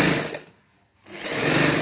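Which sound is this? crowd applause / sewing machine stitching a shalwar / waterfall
sewing machine stitching a shalwar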